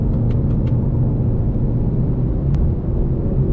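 A 10-speed Ford Mustang accelerating in S with drag mode engaged on a back road, a steady loud engine roar and road rumble running throughout with a couple of brief faint clicks.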